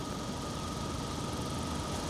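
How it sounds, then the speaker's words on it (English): A parked car idles with its engine running and its windows down, a low, steady mechanical rumble with a faint vibrating hum, close by and continuous, with no talking. "Can you tell me why you have the engine running?"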